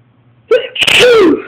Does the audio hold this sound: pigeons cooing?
no